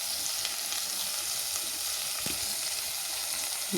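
Chicken pulao masala with coriander powder and garam masala is stirred in a pressure cooker, giving a constant, even frying hiss with one brief scrape partway through and no talking.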